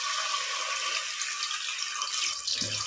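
Sliced onions sizzle in about five to six tablespoons of hot oil, a steady bright hiss throughout with a faint lower rumble near the end.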